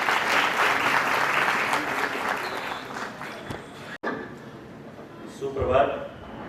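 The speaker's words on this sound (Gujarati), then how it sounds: "પ્લીઝ એકવાર જોરદાર તાળીઓ થઈ જાય એમની માટે." An audience at a company's stock-exchange listing ceremony applauds loudly for about four seconds, then the clapping cuts off and a voice begins speaking over the quieter room.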